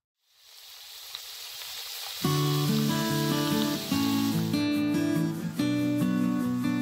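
Fresh garden-dug potatoes hit hot oil and burst into a loud, continuous sizzle and crackle that holds steady throughout, with music playing underneath.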